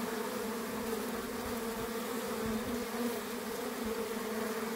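Honeybees crowd through a pollen trap at the hive entrance, a dense, constant buzzing hum, steady and fairly close, with no voices.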